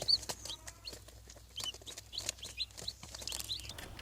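One-day-old Leghorn chicks peep in soft, high, rapid chirps that overlap in a steady chorus, fairly quiet and close, with no talking.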